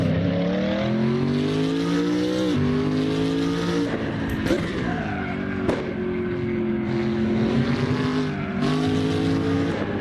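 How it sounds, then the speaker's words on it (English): A race car engine in the Assetto Corsa racing game drones and shifts pitch steadily, with sharp exhaust pops and cracks breaking through at a few points; loud, close, no talking. "Plus it's got the gunshot sounds on it. On the exhaust, it's popping."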